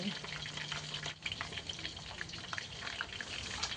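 Chicken pieces deep-fry in oil with a faint, steady bubbling and small crackles as they are gently turned.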